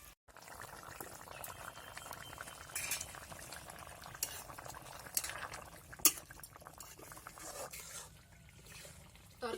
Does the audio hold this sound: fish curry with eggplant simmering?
yes